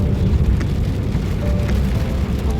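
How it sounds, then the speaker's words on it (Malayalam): Rain falls steadily on the road during a journey through Kumily, Kerala, a constant hiss of drops with no voices. "പിന്നെ കുറച്ച് അങ്ങോട്ട് ചെന്നപ്പോഴത്തേക്കും മഴ പെയ്യാൻ തുടങ്ങി."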